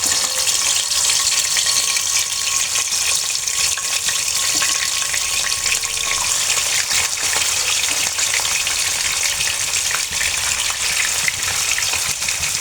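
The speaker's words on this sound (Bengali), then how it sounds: "কই মাছগুলো আমি এখন ভেজে নেব তেলে হালকা করে দিয়ে দিয়ে।" Koi fish frying lightly in oil in a home kitchen, giving a steady, close, hissing sizzle that continues evenly throughout with faint crackles.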